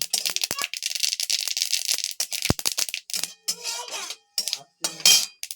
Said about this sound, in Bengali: এবার আমি কড়াইতে শুকনো লঙ্কা আর সর্ষে দিয়ে দেব